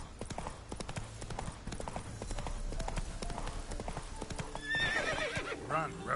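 Horse hooves clip-clop at a steady gallop in The Witcher 3 video game, close and loud, with whinnies near the end over busy in-game sounds.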